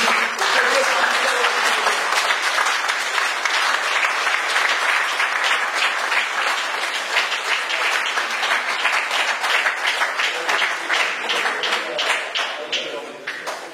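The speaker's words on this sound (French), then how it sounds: "On va demander sous les applaudissements de leurs amis" Sustained applause from friends of the players at a pétanque tournament prize ceremony in Cardet, steady dense clapping running loud and continuous throughout, tapering slightly near the end.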